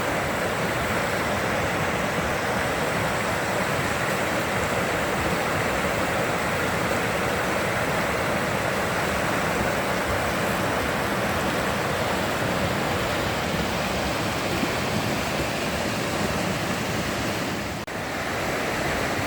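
A river rushes steadily nearby in an overgrown late-summer camping spot near Sulphur Springs, a dense, unbroken wash of flowing water heard alone with no voices.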